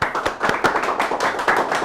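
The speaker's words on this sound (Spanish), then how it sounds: "Recibimos al doctor con un fuerte aplauso." A seminar audience applauds to welcome a speaker at an information security talk, a dense steady round of many hands clapping, fairly close and continuous for a couple of seconds with no speech.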